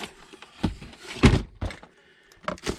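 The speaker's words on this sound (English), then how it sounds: "So I just knocked our boiled peanuts over." A cup of boiled peanuts gets knocked over outdoors at a windy model-aircraft flying field, giving a few dull, close thuds and knocks spread across a couple of seconds.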